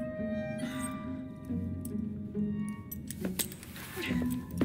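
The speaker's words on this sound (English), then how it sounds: "Now hand over your keys." Keys jangle as they are handed over in Assassin's Creed Syndicate, a scattering of light metallic clinks over a low ambient hum with game background sound.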